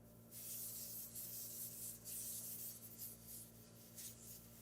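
A sprayer puts a fine mist of decontamination solution onto a surface for fentanyl cleanup, giving repeated close hissing bursts over a low steady hum, with no talk.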